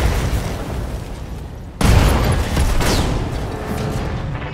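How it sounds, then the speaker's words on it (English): A BattleTech mech unloads a full weapons salvo, a sudden loud boom landing partway through followed by a dense rumbling stretch of blasts and crackling bursts layered over a continuous low battle roar. "Firing a full salvo."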